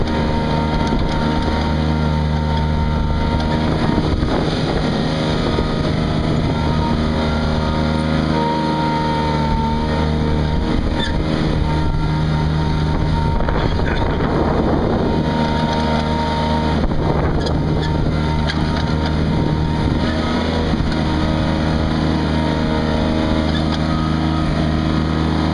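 A Ransomes AR250 reel fairway mower running steadily on wide turf tires, a loud constant engine drone with buzzing reel whir and gusts of wind noise across the microphone, without talk.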